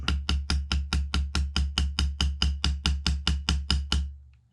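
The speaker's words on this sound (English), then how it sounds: "just take your smaller hammer, your little hammer." A small hammer taps a part into an AR15 lower receiver in about sixteen crisp, evenly spaced strikes at a steady quick rhythm, close and clear, with the last ring fading out.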